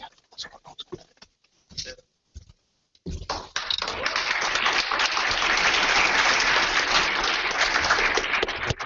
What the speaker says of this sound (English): Huge round of applause for Amit and his team